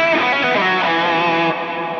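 Sustained distorted electric guitar notes ringing out through a Boss GT-1 multi-effects processor's Terra Echo modulated delay, smeared by a wavering delay that trails and swells continuously, with no talking.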